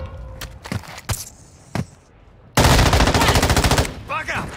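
Automatic gunfire in a first-person shooter game set on Ashika: a few scattered single shots early, then a sustained loud rapid burst of machine-gun fire lasting about a second and a half, fading into softer game noise.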